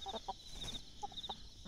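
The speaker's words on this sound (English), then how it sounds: "So here come Big Mama, my big hen right there. That's a hen." A big farmyard hen clucks softly in short, spaced bursts, several brief calls over a quiet morning background, faint and fairly close, alone without talk.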